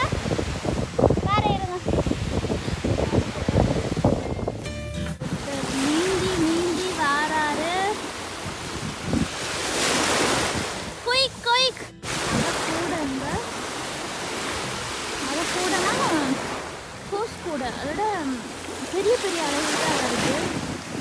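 Ocean waves surge and wash on a beach in repeated rushing swells, mixed with wind and overlapping talk from several people.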